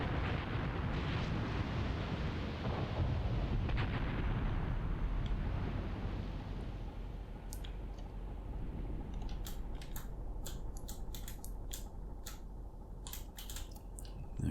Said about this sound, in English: The rockets have fallen further forward than I was expecting.